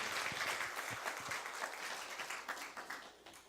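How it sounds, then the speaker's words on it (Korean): Church congregation applauding after a missionary commissioning in a Sunday worship service, a dense steady roar of many hands with scattered sharper claps, fading slightly toward the end. "다시 한번 큰 박수 부탁드리겠습니다."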